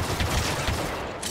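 Rapid overlapping blasts of gunfire fill a short burst in Star Wars Battlefront 2, dense and loud without pause, with no speech.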